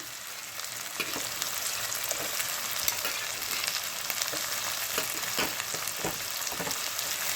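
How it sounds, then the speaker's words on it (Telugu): Tomatoes and capsicum fry in oil in a pan, giving a steady, even sizzle with small crackles and occasional stirring clicks throughout, close and alone with no talk. "పెద్దవి తీసేసుకుని ఇలా వేయించేసుకోవాలి"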